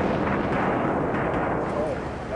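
A BLEVE explosion heard from over a mile away arrives as a loud, sustained, broad rumbling roar that fills the whole moment without a sharp onset.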